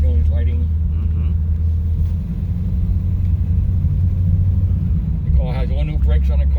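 A fully restored 1955 Chevrolet Bel Air Hardtop rumbles steadily on a test drive, its low engine drone running throughout beneath brief bursts of people talking inside the car.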